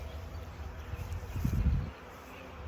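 Honey bees buzz around an opened hive during early-summer hive preparation, a steady close drone of many insects with a short louder swell as one passes near.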